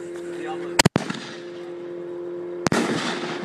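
A Black Cat Diablo 60 gram canister firework shell bursts outdoors with two sharp, loud cracks in quick succession, then another boom followed by lingering crackle and rumble, with a faint tonal hum beneath.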